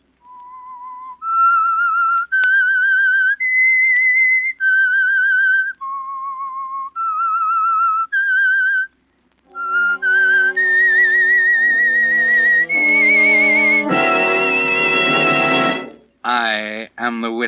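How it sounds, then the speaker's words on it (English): A clear whistled theme tune for an old-time radio mystery show, steady held notes rising and falling, then swelling into a fuller orchestral phrase ending in a brief flourish. "That whistle is your signal for the Signal Oil Program,"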